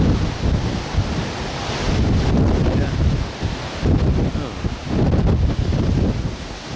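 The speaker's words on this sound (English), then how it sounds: "Rough ocean, very rough ocean. This is storm, raining" Stormy Arctic ocean with strong gusting wind buffeting the microphone and rough waves surging in heavy, roaring swells, loud and close throughout.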